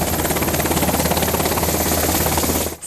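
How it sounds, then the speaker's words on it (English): An MH-60 Sierra helicopter in flight, heard up close as a loud, steady rotor thump over a droning turbine roar that holds throughout before cutting off at the end. "take a ride in an MH-60 Sierra as pilots clocked flight"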